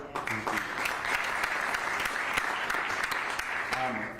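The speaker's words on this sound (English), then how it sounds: "That applause really should go to Ken McFadden" Audience applause at a county address, sustained dense clapping throughout with a voice speaking over it.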